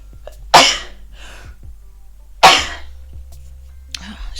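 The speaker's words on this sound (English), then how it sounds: "I've been sneezing a lot lately" Two loud, sharp sneezes a couple of seconds apart, each a sudden burst of breathy noise, with quiet room tone and faint small sounds between them.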